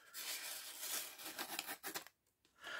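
An M390 steel locking knife slicing through a sheet of paper, close and crisp tearing and rasping cuts in a few quick strokes, with brief pauses between.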